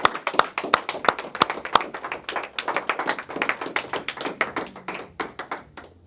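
A church congregation claps to acclaim Jesus, with many hands producing a dense, lively patter of sharp claps. The clapping is close and steady for several seconds, loosely rhythmic, then thins out near the end.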